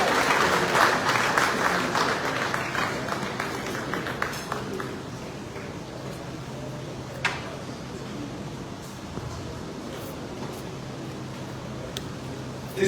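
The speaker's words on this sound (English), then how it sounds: "Round of applause to come on stage." An audience claps steadily at a formal award ceremony in Sierra Leone as the President of the Republic comes on stage, the dense, loud applause gradually thinning toward the end.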